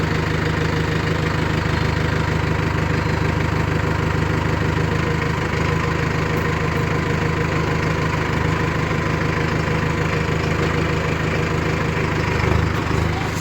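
A tractor engine idling nearby, a steady low rumble with a rhythmic diesel knock that holds constant throughout.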